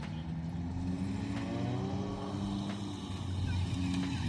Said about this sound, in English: It's good to see these vintage cars being pushed to their limits round Mercedes-Benz World's